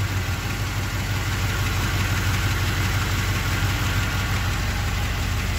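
A truck engine, from a K5 Blazer owner's replacement truck, runs at fast idle with a steady, loud, even mechanical drone and rapid low pulsing that holds constant throughout, with no voices.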